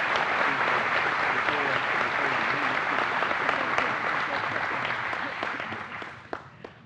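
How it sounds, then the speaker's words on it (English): Sustained audience applause at an agency honor awards ceremony for public service medal recipients, steady and full for several seconds, with voices mixed in, before tapering off into a few last claps. "Let's have a round of applause for these folks in the public service medal."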